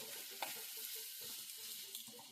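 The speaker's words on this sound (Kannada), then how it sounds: "ಇವಾಗ ಇದನ್ನ ಸ್ವಲ್ಪ ಎಣ್ಣೆಗೆ ಬಾಡಿಸ್ಕೊಳ್ಳೋದು." Raw mango pieces sizzle softly in hot oil for mango rice, a steady quiet frying hiss broken by light stirring scrapes, with no talking.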